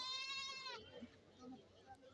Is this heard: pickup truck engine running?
no